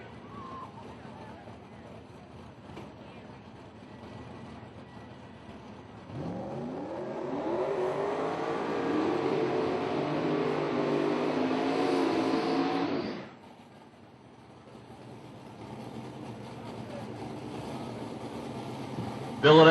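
A Fox Body drag car running nitrous at South Georgia Motorsports Park in a Lights Out event, its engine roaring up loud and rising in pitch for several seconds before cutting off, with announcer talk over the track ambience.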